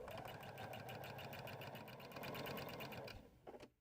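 A sewing machine stitches pillow fabric pieces in a steady, rapid, close run for about three seconds, then slows and stops with a few short bursts.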